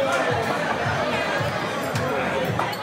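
Dense nightlife crowd chatter fills a street lined with discotheques in Logroño's old town on a weekend night, a steady, loud babble of many overlapping voices with no single speaker standing out.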